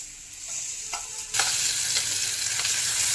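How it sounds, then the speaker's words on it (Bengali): Pumpkin pieces fry in a small amount of oil, a soft hiss that jumps to a louder, continuous sizzle partway through, with light stirring clicks, close up and with no voices. "কুমড়ো প্রথমে ভেজে নিচ্ছি খুব অল্প তেলে পোড়া পোড়া করে কুমড়ো ভাজছি"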